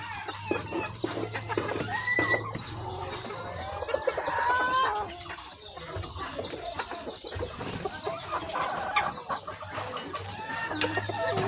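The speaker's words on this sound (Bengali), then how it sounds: "এখানে 2 জোড়া কোচিন প্রজাতি মুরগি আছে।" Two pairs of Cochin chickens, males and females, resting after feeding, cluck and murmur softly at close range in a steady, irregular chatter, with occasional louder calls and other poultry faintly in the background.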